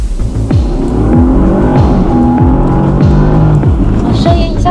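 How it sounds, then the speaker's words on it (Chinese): Bentley Continental GT engine accelerating in Sport mode, a loud, steady drone with rising and falling engine tones as it pulls through gears, heard from inside the car over continuous road and wind noise. "发动机的声音确实不太一样啊"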